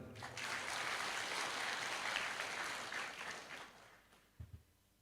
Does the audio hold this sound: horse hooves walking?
no